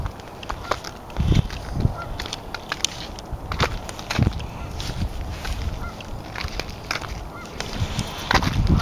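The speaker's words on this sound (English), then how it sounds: "I'm going to see if we can see the goose that's honking in the background." Repeated goose honks ring out at a moderate distance from a river, irregular and overlapping, with occasional footsteps and outdoor ambience underneath.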